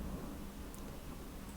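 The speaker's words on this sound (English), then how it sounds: "That's the thunderstorm outside." A thunderstorm outside gives a low, steady rumble of thunder, broad and rolling, with a faint hiss of rain over it; no one talks.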